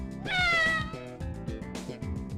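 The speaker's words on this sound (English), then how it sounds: "Freaking loud cat." A loud cat meows in the PS2 role-playing game Growlanser III: one long, drawn-out meow near the start and a shorter one later, over a steady backdrop of game music.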